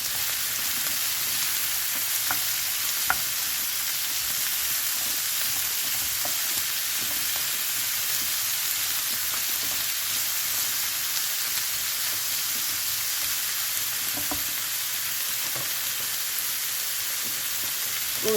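Onion and bell pepper fry with cooking sauce in a pan, giving a steady, loud sizzle throughout with a few faint clicks of stirring and no talk.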